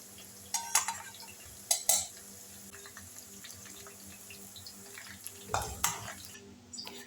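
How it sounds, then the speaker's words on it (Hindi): Okra frying in oil gives a quiet, steady sizzle, broken by a few sharp stirring and scraping clatters from the pan, with no voices. "उसमें मैंने भिंडी को फ्राई कर लेना है"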